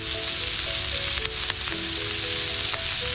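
Onion sizzles and fries in a pan in a home kitchen, a loud, steady crackling hiss with faint utensil taps, close and continuous.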